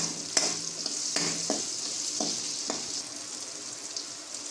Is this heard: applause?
no